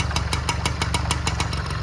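A Kinetic Luna moped fitted with a small engine, running close by with a rapid, even putter of regular exhaust pulses and no voices.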